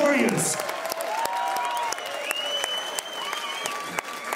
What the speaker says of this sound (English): Huge round of applause for both of these warriors.